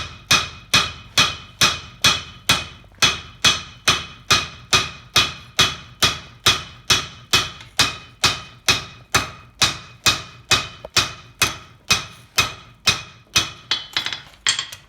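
A blacksmith's hammer strikes leaf spring steel while forging a spear head, about thirty sharp, evenly spaced metallic blows ringing close and loud, each with a brief decaying ring.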